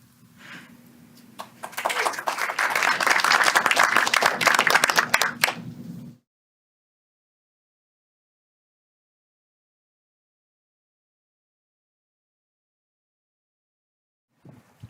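A crowd claps in a burst of applause for several seconds, then it cuts to silence with a faint noise near the end.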